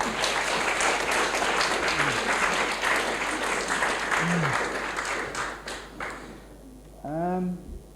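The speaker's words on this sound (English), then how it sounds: "Round of applause, please." An audience at a UK-India business panel discussion claps in a steady round of applause that tapers off toward the end, followed by a brief spoken voice as the clapping dies away.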